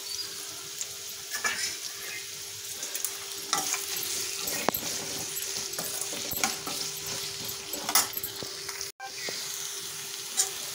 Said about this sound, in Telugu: ఉల్లిపాయలు ఇలా వేగితే చాలండి